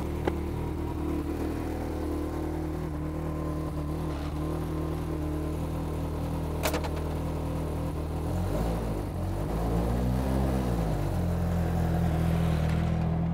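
A BAC Mono sports car idles with a steady, loud engine drone. Near the end the revs rise and fall as it pulls away, close by.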